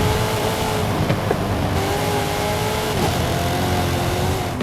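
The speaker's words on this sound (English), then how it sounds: "the roaring sound of my car's engine felt even more full and convincing" Car engine in a racing video game roaring steadily at high revs, a loud continuous drone with slight pitch shifts and brief gear-change dips, no voices.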